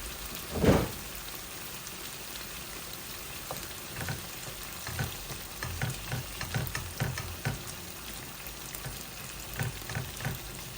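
Tomatoes go into a pan of frying tengra fish for a bhuna: one loud splash and hiss at the start, then a soft, crackling sizzle with scattered pops and light stirring, moderately near and quiet.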